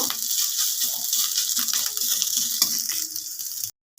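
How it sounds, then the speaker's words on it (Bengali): Grated ginger sizzles in hot oil with a continuous bright crackle and hiss, sounding close and fairly loud. Faint stirring ticks run underneath until the sound cuts off abruptly into silence. "গ্রেট করে রাখা আদা হালকা করে ভেজে নেব কয়েক সেকেন্ডের জন্য"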